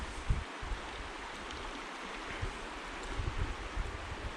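Deschutes River water rushing over boulders, a steady broadband wash with occasional low bumps and wind rumble, no talking.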